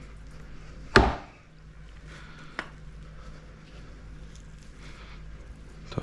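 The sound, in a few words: chopping tough bits off roasted pumpkin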